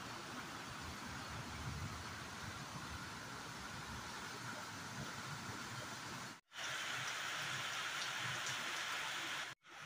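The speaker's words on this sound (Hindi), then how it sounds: "अब जब बारिश होने शुरू हुई है तो ताबड़तोड़ बारिश हो रही है" Heavy rain pours in the mountains near a swollen river, a dense steady roar of falling water that fills the whole stretch and cuts out twice for a split second.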